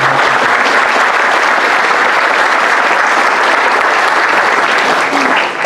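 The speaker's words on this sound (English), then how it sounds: "So how about a big round of applause for my family?" Loud, sustained applause from a large crowd at a guide dog graduation ceremony, even and continuous for several seconds before easing slightly at the end.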